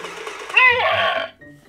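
A slime monster toy's built-in blender kicks in briefly when its belly is pressed, a buzzy electric whir and nasal rattling hum for under a second, then cuts off into quiet.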